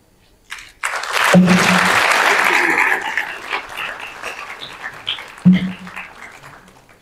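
An audience in a hall claps for an honoree at an award ceremony, a loud burst of applause swelling and then tapering off into scattered claps, with a few thuds along the way.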